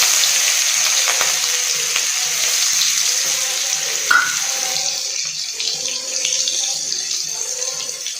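Onion and panch phoron spitting in hot oil, a bright continuous sizzle with soft scraping and a brief clink midway, no one speaking over it.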